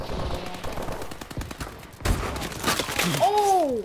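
Video game gunfire comes in rapid bursts of sharp, close shots, followed by a louder cluster of impacts and a brief rising tonal effect at the end.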